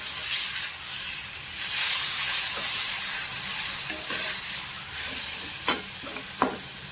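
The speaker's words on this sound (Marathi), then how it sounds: "आता छानपैकी हिला आपण हलवून घेऊया." Raw mango chutney being stirred in a hot pan, a continuous close sizzle and hiss with occasional scraping clicks of the spoon against the pan.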